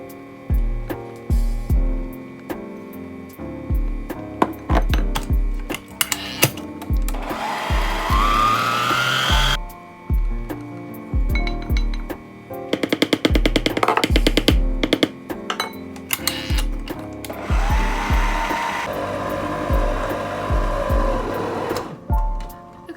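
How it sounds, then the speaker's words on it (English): An electric stand mixer beats Oreo chunk cookie dough, its motor whirring steadily in close, repeated bursts broken by brief pauses and rhythmic thumping of the beater, with no one talking. "just like turn the beater back on and mix it until that's all mixed in"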